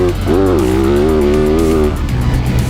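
A 2018 Yamaha YZ450F motocross bike at Glen Helen revs up and shifts through the gears, its engine note climbing, then holding a steady, close, loud drone. A voice talks over it.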